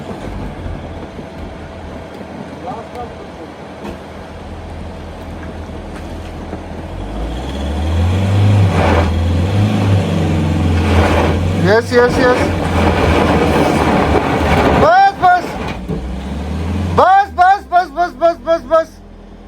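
A bus pulls up at a mountain stop in Khangsar, Nepal, its engine rumbling louder and closer, then a sequence of sharp hissing and squealing brake or air bursts near the end, with people talking over it.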